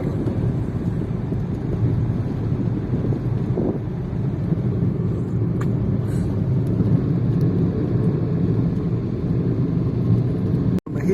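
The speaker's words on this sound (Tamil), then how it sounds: "ஹில்ஸ் மேலே வண்டி போயிட்டு இருக்கு" A car climbs a hill road on a drive from Chennai to Mumbai. Steady engine and road rumble mix with wind buffeting the microphone, and a sharp click comes near the end.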